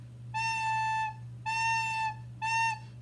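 Three sustained wind-instrument notes begin softly without tongue articulation, each with an unclear breathy onset, steady pitch and no talking, played close over a low steady hum.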